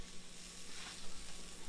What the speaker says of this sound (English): there's all kinds of factors that can go into frying